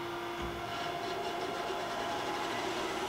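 The internal grinding spindle on a Kellenberger universal ID/OD grinder runs as a steady, close mechanical whine with a constant hum and a light rumble beneath it, holding an even level throughout.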